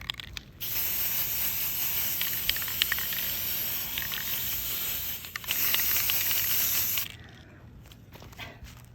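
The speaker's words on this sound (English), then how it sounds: "Just gonna spray paint." Steady hiss of a spray paint can in two long bursts, the second shorter, with a brief pause between and quiet outdoor ambience after.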